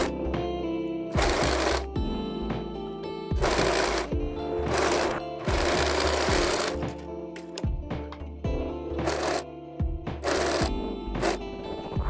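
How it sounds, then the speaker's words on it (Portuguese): Overlock serger stitching the seams of a cardigan, running in several loud, fast mechanical bursts of whirring stitches separated by short pauses. "E agora eu vou overlocar essas partes."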